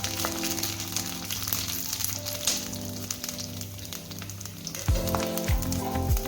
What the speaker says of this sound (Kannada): ಇದು ಸ್ವಲ್ಪ ಸ್ಲೋ ಫ್ಲೇಮಲ್ಲಿ ಹುರಿಬೇಕು